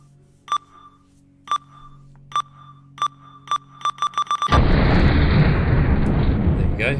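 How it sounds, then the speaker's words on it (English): A video-game bomb blasts through a wall: a run of sharp electronic beeps speeds up, then a loud, sustained roaring explosion bursts in and slowly fades. "Now we can break through it with"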